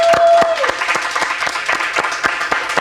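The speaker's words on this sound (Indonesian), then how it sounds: "Tepuk tangan dong." Studio audience at an Indonesian podcast show claps steadily to welcome guests, a dense, near wash of hand claps running throughout with sharp individual claps standing out, and a brief voice at the start.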